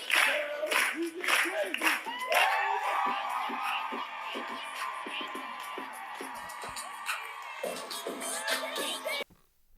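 Studio audience clapping and cheering at a talk show taping, a dense wash of applause with scattered whoops that swells early and holds steady for about nine seconds before cutting off abruptly.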